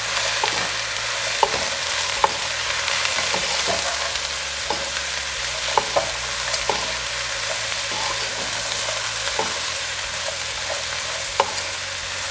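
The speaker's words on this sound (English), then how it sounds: "I'm going to give them all a good mix now." Soya bean pulao ingredients are stirred in a hot pan: a continuous loud sizzle with the scrape and clink of a spoon at irregular intervals, close up and alone without talk.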